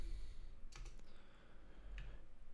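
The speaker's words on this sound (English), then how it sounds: "I'm making myself do a lot of typing." Quick, light keystrokes clatter on a computer keyboard at close range while someone writes compiler code, with a few sharper taps over a low steady hum.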